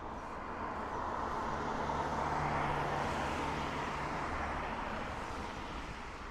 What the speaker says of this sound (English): Another Ryanair coming in from London Stanstead.